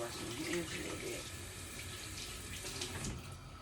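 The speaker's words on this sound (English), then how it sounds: "So I'm gonna turn my water on here. Wash my hands a little bit." Kitchen tap water runs steadily into a sink while hands are washed, a continuous close splashing hiss with slight variations, no clear talk over it.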